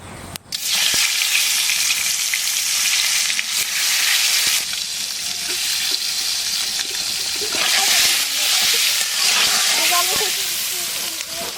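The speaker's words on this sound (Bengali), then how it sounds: "আমার ডিমটা ভাজি হয়ে গেছে," Quail eggs fry in hot oil seasoned with salt and turmeric, a loud continuous sizzle and hiss that runs throughout with faint stirring and some voice in the background.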